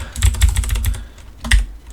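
Computer keyboard keys pressed for copy and paste shortcuts: a quick run of close, sharp clicks, then a short pause and a couple more taps.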